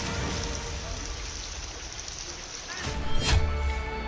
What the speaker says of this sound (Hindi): हिमाचल और उत्तराखंड में पहाड़ तोड़ बारिश हो रही है।